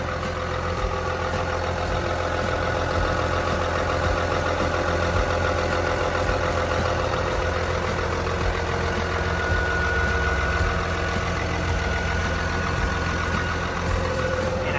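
A Komatsu WA380-6 wheel loader's turbocharged six-cylinder 6D107 engine idles close by, a steady loud low rumble with a faint turbo whine that runs unchanged throughout, with no talking.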